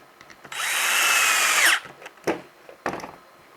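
Power driver running screws into a rear body mount on a 1:10 RC chassis: one sustained whirring burst of about a second, then two short follow-up bursts, close and loud with no talk.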